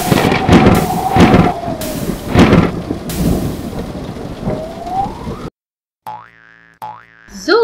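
Storm with heavy rain hissing steadily and several loud thunder cracks and rumbles, followed after a brief silence by cartoonish boing-like sliding tones.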